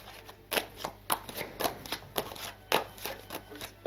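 Tarot cards are shuffled and flipped, giving a string of short, crisp riffling slaps at an uneven pace, close up, with faint room quiet between them.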